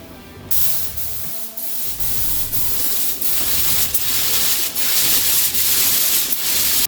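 Steady hissing spray from a paint gun, running continuously with brief pulses and short pauses, close up and fairly loud.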